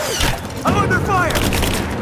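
Rapid gunfire in the action game Rise of the Tomb Raider, a dense burst of shots under shouting voices and loud battle noise, close and intense.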